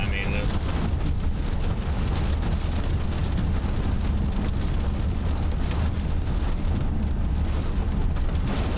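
Steady heavy rain with some hail pelting down during a supercell thunderstorm in Nebraska, a dense continuous hiss and patter throughout with low rumbling underneath.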